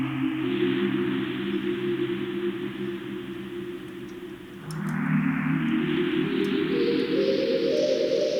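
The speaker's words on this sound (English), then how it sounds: "Here's some nice radio static." Radio static reshaped through granular synthesis, a steady broadband hiss with layered tonal bands that shifts character and brightens midway, continuous and loud with no talk.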